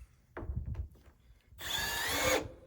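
A power drill drives a screw into a wooden board while a budget chicken tractor is built, giving one loud, close whirring burst of just under a second after a few soft handling knocks.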